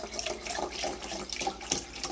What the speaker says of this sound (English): We're going to just take and pour some of that veggie broth in there